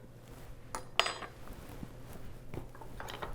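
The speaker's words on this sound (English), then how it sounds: "And mix it together" Salad dressing of salt and a little sugar stirred in a bowl, with a few sharp clinks of a utensil against the bowl among soft scraping, close and moderately quiet, no talk.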